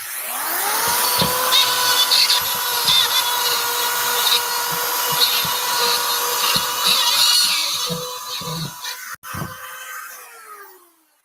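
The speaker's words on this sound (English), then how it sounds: "When you're screwing up your drywall, put the heel of the drill at the top of your corner" A power drill whirs steadily and close up for most of the stretch, with brief knocks and taps, while screws go into drywall during a room install; the motor winds down near the end.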